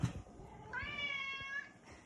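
A cat gives a single clear, drawn-out meow close by, lasting under a second, with brief soft noises before and after and no speech.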